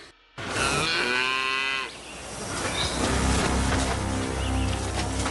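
A cow lets out a long, loud moo up close, followed by rougher lowing and mooing from cattle nearby, with no talking.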